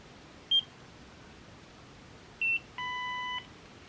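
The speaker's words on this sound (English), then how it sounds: "it says like 40 beeps in total" A Nira skincare laser device gives short electronic beeps: two brief single tones, then a longer steady multi-tone beep, clear and close in a quiet room.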